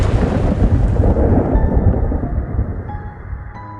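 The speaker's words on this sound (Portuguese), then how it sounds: "Em uma fração de segundos, um relâmpago iluminou toda a sala." Loud rumbling thunder rolls over steady heavy rain, a long deep roar that slowly fades across a few seconds while the rainfall continues underneath, with no voices.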